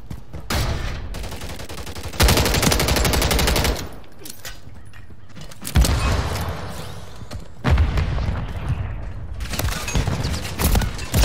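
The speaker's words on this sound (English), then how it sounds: "one, two, three, four, five shots all emptied into their body" Call of Duty gunfire comes in repeated loud bursts of rapid automatic fire separated by quieter gaps, up close and dense.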